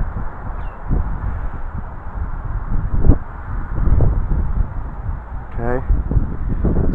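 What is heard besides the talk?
strong wind blowing outdoors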